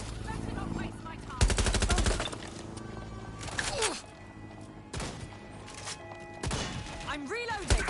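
Gunfire in the video game Watch Dogs Legion, with bursts of rapid automatic shots and separate single cracks. Whooshing and sweeping effects and low game sounds run underneath.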